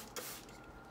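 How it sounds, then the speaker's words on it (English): A single short spray burst of rubbing alcohol from a spray bottle onto an orchid, a soft close hiss that fades quickly. "if I spray these things down with this rubbing alcohol"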